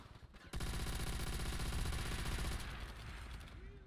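A Type 100 submachine gun in the World at War video game fires a sustained rapid burst of a few seconds, a dense, loud, continuous rattle of shots.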